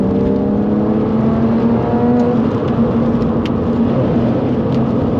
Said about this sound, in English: That roar from the air intake really comes in.